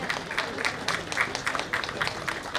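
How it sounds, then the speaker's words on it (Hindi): An audience at an Independence Day ceremony applauds as an award is presented, steady close clapping that continues through the whole moment without talk. "आपसे अनुरोध है उन्हें तालियों से प्रोत्साहित करें।"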